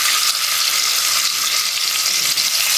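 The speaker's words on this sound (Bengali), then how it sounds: "আমি এটা সুন্দর করে ভেজে নেব" Pieces of broiler chicken, coated in turmeric and salt, fry in a pan with a loud, close, unbroken hiss and crackle of hot oil, and no voices.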